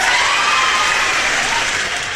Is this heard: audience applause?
yes